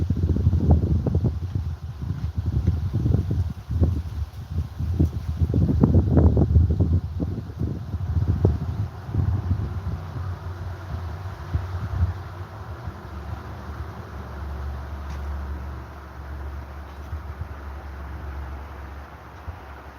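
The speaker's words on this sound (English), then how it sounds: "Wind is freaky. I don't understand wind" Wind gusts blow outdoors, buffeting close against the microphone with low, uneven rumbles that are strongest early on and settle into a softer, steady rush.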